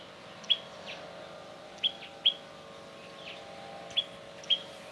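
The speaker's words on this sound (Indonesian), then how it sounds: "Kalian bisa dengar banyak kicauan burung di sini." Small wild birds chirp in short, scattered bursts over a steady outdoor hum, with several sharp tweets spaced irregularly across the scene.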